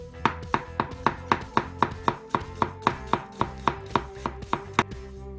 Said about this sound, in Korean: 양파부터 손질할 건데 그냥 채 썰어 주시면 됩니다